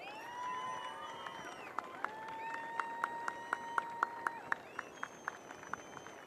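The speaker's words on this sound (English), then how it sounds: "Big round of applause for Teresa Bonvalo." Faint crowd applause at a surf contest awards moment on a beach, scattered sharp claps growing into a rhythmic clap pattern beneath tonal public-address sounds.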